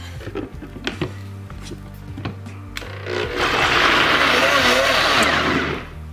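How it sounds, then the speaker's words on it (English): Kitchen blender whirring through peanut butter and maple syrup for a vegan parfait, starting after a few clicks and handling noises, then a loud steady motor roar for a couple of seconds before stopping. "Now we blend."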